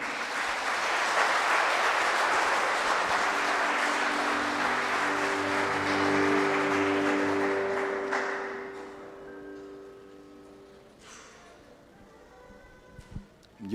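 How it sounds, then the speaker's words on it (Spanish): A church congregation applauds migrants during a Holy Hour service, a broad, steady wash of clapping for about eight seconds before it fades into quieter, sustained tones. "Aplausos a los migrantes para que se animen."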